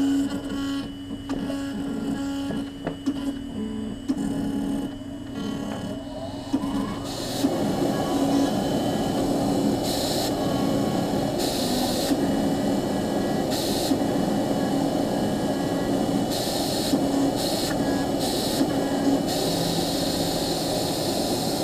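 A Unica engraving machine cuts plastic, starting with clicks and rising into a loud, steady whirring grind that stays constant, broken by periodic bursts of higher buzzing.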